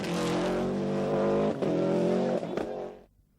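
A Subaru rally car engine roars loudly during a 1995 World Rally Championship stage, holding a strong, steady drone with brief dips and a sharp shift near the end before the sound cuts off.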